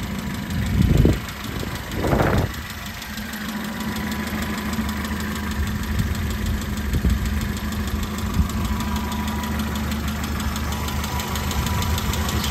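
A 1990 Nissan Sunny ute, a Japanese import, idles steadily with a constant low hum and faint knocking ticks, after two brief louder revs near the start; it sits close and runs alone with no talk.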